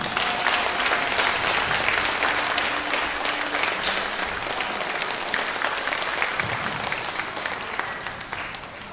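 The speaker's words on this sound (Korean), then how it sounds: "박수로 맞이해 주세요." Audience applause welcoming a saxophonist at a performance, sustained and fairly even clapping from a crowd that slowly fades toward the end.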